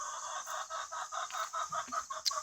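Chickens on pasture cluck around a mobile coop, a steady run of close, moderately loud clucks and chatter with no one talking.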